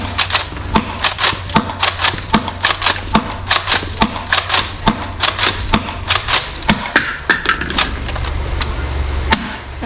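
Nerf Mega Thunder blaster fitted with an HPA mod firing repeatedly, a long string of sharp, loud air-powered pops roughly every half second with a steady hiss underneath, close to the listener.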